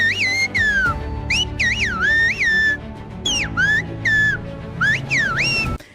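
A person whistles a whistled language imitating birdsong, in swooping, sliding phrases that rise and fall like speech, sounding birdlike over a low background hum.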